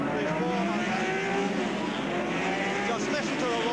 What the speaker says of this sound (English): Just listen to the roar of those cars